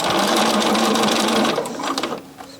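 A sewing machine stitches an invisible zip into fabric, running loud and steady up close for about a second and a half, then slowing and stopping into a few lighter mechanical clicks.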